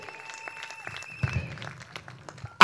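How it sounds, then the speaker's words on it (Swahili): A crusade congregation at Flamingo Estate in Nakuru gives scattered, uneven clapping on the event's final day. It builds mid-way and ends in a sudden loud burst, with some voices mixed in. "Mpe Bwana makofi mazuri"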